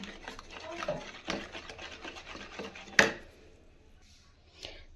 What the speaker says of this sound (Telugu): సో ఫ్రెండ్స్ ఇలా ఉండలు లేకుండా కలుపుకోవాలి